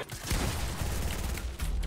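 Rapid, loud bursts of gunfire from the Fortnite video game in its Avengers mode, a dense fusillade of close shots filling the moment with no speech.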